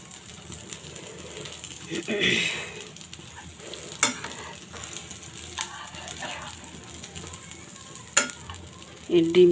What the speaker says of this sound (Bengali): ডিমটা এখন উল্টে দিলাম। এই পাশটা একটু আনা ভাজা হয়ে যাক।